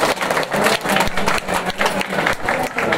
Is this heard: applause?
yes